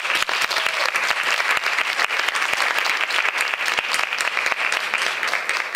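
An audience at a science event for the International Day of Women and Girls in Science applauds steadily, dense clapping from many hands sustained throughout without a break.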